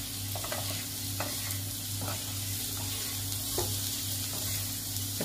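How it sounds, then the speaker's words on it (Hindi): Potatoes tossed with turmeric and red chilli in a pan over low-medium flame for rava dosa stuffing, giving a steady soft sizzle with scattered scraping stir strokes, close and continuous, no talking. "अच्छी तरह मसाले में आलू मिक्स कर लें।"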